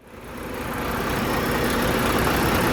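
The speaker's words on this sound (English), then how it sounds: "Now we are starting the engine" A truck engine is started during a pre-trip inspection and settles into a steady idle, a rough broadband rumble that swells over the first second and then holds loud and constant.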